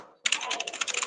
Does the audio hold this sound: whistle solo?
no